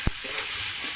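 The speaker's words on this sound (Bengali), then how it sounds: "এটা ভালো করে কষাবো" Prawn legs sauté in hot oil with turmeric, salt, ginger, cumin and chilli, giving a steady close sizzle that opens with a single sharp scrape of a spatula.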